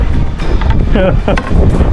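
Strong rainy wind blows in toward the shore by a small boat on clear water, a loud steady roar buffeting close to the microphone, with brief voices breaking through.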